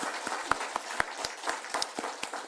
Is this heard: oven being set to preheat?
no